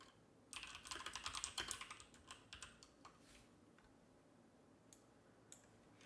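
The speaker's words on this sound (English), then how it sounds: "Ignore the keyboard sounds." Typing on a computer keyboard comes as a rapid burst of clicky keystrokes early on, then thins to a few scattered taps, quiet and close with no talking.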